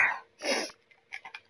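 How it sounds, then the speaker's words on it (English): A single burst of a person sneezing, close and fairly loud, with quieter breathy noises and throat sounds just before and after in a live gaming setting. "I keep sneezing."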